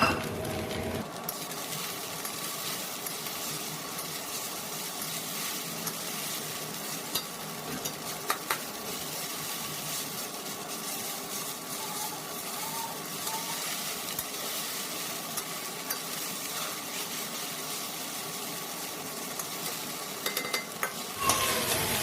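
Chowmein frying in a pan with fried eggs being added, a continuous close sizzle under repeated stirring and scraping of a utensil, no talking.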